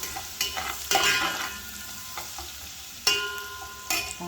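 A masala of red chilli, garlic and cumin sautéing in a pan: a continuous close sizzle broken by several scraping stirs, with no voices over it.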